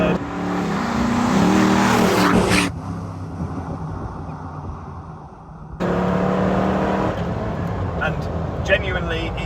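A Twisted Automotive Land Rover Defender with a 6.2 litre V8 accelerates hard from inside the cabin, its loud engine roar broken by gear changes as it kicks down into third, with someone talking over it.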